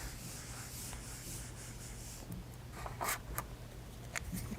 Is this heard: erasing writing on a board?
yes